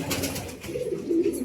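Pigeons coo steadily inside a pigeon loft, a soft, close, continuous murmur that swells louder near the end, with no talking.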